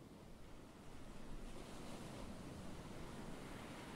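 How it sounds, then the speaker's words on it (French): Ocean waves crash against a cliff as a continuous broad roar of surf, softly blustery with wind, quiet and distant with no voices. "Les vagues qui s'écrasent contre la falaise avec force."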